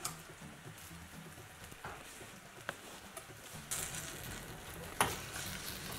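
A spoon stirs sugar through spices simmering in a pan, giving a steady soft sizzle with a few sharper scrapes against the pan.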